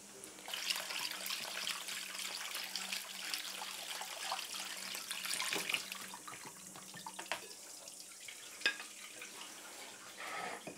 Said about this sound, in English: Now I'm going to actually rinse it because then you'll be able to see the grains better.